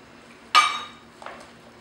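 A utensil clinks sharply against a bowl while mixing whole wheat bread batter with toasted flaxseed flour, one loud scraping knock followed by a softer second tap.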